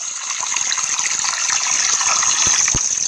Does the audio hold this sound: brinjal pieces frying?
no